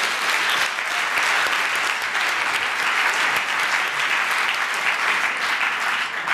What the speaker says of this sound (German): deswegen einmal ganz kurz einen großen Applaus für ihn